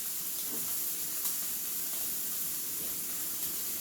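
Beef strip steak and onions sizzle in brown butter in a pan, a continuous faint hissing fry with light crackles throughout.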